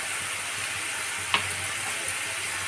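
Mustard paste and green chillies fry in a pan for a fish curry, producing a soft, even sizzle with one sharp spoon tap partway through.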